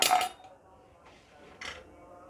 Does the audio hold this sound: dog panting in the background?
no